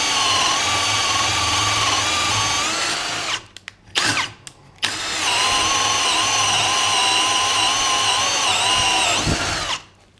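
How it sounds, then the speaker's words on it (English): A carbide hole saw on a power drill bores through pressure-treated lumber with a loud, sustained high-pitched whine. It stops briefly for a few seconds of sputtering bursts, then runs steadily again before winding down. "This is what drilling this pressure-treated lumber does"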